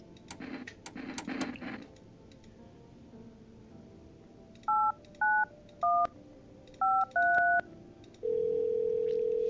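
Telephone keys are dialled in the game No, I'm Not a Human: a run of short beeping tones of different pitches, followed by a steady ringing tone, all clear over a quiet background.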